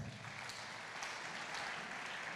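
A church congregation claps together during a service, a dense and continuous round of applause that fills the whole short stretch at a fairly even, moderate level.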